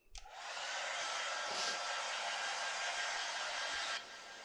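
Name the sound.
hair dryer running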